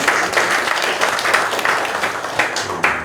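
Congregation applauding during a Korean church service honoring a denomination's general superintendent, a steady dense wash of clapping from a crowd indoors, continuous for about three seconds with slight swells.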